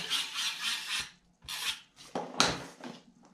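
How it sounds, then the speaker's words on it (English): A tape runner lays adhesive along a half-inch paper strip in a papercraft project: a few short, dry rasping rubs, close and alone. "I'm going to use my tape runner for the 1/2 inch strip"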